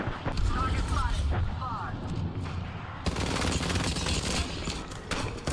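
Gunfire rattles in the video game Apex Legends, rapid automatic shots and bursts that grow denser and louder midway, with a voice speaking faintly beneath the shooting early on.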